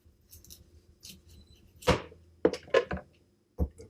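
A knife cuts the ends off a butternut squash in a kitchen, giving several sharp, separate chops and cracks that ring out between quiet gaps.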